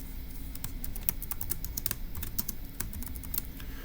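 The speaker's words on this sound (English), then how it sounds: "let's go ahead and type that up in section C." Steady clatter of computer keyboard typing while a Turing Machine logic puzzle is worked out, close and moderately quiet, with quick irregular keystrokes continuing throughout and no voices.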